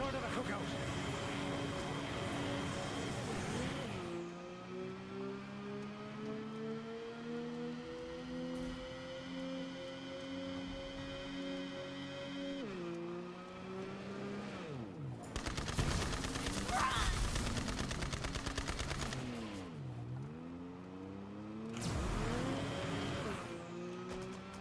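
All-terrain technical vehicle in Borderlands 3 driving with a sustained engine drone that rises and dips in pitch, broken by several bursts of loud gunfire, with a voice talking over parts of it.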